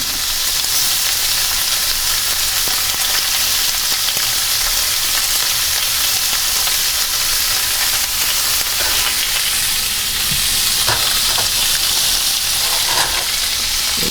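Pork sizzling and frying steadily in a pan, with continuous loud crackle and hiss alone, no voices, and occasional sharper pops and stirring scrapes near the end.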